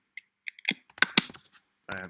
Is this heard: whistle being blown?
no